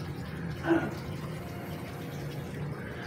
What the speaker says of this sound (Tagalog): So meron lang tayong overflow dito.